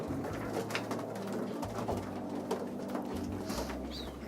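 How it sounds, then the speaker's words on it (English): Racing pigeons in a total-widowhood loft coo softly and steadily beneath a low background hum, a few faint bird calls rising over the murmur. "Great pigeon, huh?"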